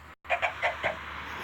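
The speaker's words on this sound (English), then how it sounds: "Oh, I hear a chicken." Several short chicken clucks in the Minecraft video game, a quick run of four or five clucks at close range after a brief silence, with a steady low background hum.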